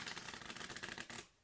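A deck of playing cards being shuffled up close during a four-ace card trick, a dense run of rapid papery riffling flicks that stops abruptly near the end, leaving quiet.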